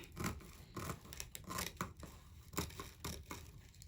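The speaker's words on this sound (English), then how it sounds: "I take it and cut it." Scissors snip through red deco mesh ribbon for a Christmas wreath, making quiet, close crunchy cuts and rustling in a quick irregular series, with no voices.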